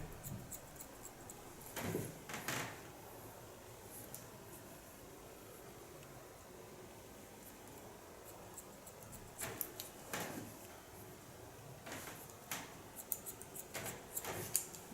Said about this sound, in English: Using a small point cut technique.